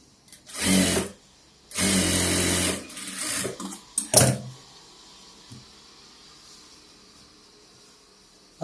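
A sewing machine runs in two longer bursts of stitching followed by a few short ones, stitching the lining of a silk pavadai skirt on its own, then falls quiet with only faint background noise.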